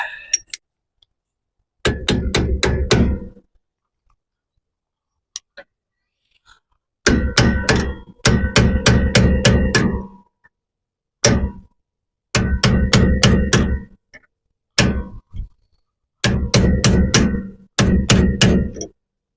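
Impact wrench zapping off the bottom bolt of an RV suspension, loud close bursts of rapid hammering rattles, about seven separate runs of one to two seconds each with silent gaps between, no talk.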